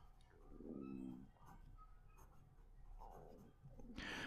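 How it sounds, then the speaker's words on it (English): A Narwhal Schuylkill fountain pen with a medium nib and Diamine ink scratches across paper in quiet, close strokes, a few separate scribbling bursts with brief pauses between them. "Let's do our writing. So we've got here a Narwhal"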